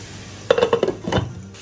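Metal lid set onto a cooking pot after the flame is turned off, making a quick cluster of clinks and a ringing rattle before it settles, close and alone.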